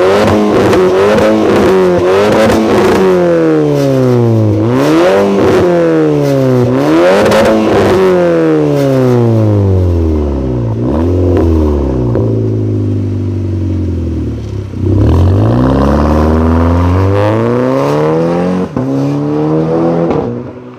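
A tuned sports car engine, heard from outside, revs hard over and over. Each loud rising howl drops away before climbing again, with popping and crackling between the pulls, and there is no talk.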